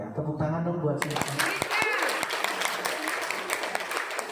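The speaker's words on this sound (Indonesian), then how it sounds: "Tepuk tangan dong buat silika." An audience at a seminar claps after a brief spoken line, a crowd's applause of steady, fairly loud scattered claps that carries on to the end.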